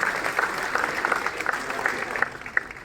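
Loud, sustained applause from a crowd at a book release event in Srinagar, launching a Kashmiri translation, with dense steady clapping and occasional sharper individual claps throughout.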